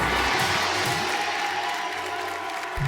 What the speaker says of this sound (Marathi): एकदा जोरदार टाळ्या झाल्या पाहिजे या ताईंसाठी.